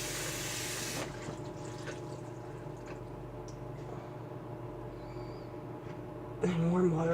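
Tap water runs steadily into a basin, a continuous close rushing hiss that cuts off after about a second and then leaves a quieter trickle, with a voice speaking briefly near the end.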